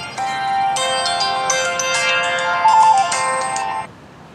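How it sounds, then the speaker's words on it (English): A phone ringtone plays a bright electronic melody of rising and falling tones, loud and close, for about four seconds before cutting off, outdoors in a garden. "Hang on, there goes my phone."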